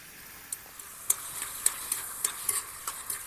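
Squid masala with tomato being stirred and fried in a pan, a steady sizzle with regular sharp scraping clicks of the spoon against the pan, close and continuous, without talk.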